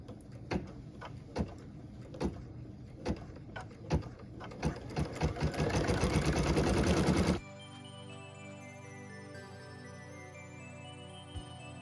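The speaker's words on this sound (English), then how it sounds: "I'm going to put my super white back in my machine and then we'll stitch it" A sewing machine stitches white wing detail onto a Christmas ornament, a run of rapid mechanical clicks that speeds into a dense, steady whir before stopping abruptly; faint music plays at the end.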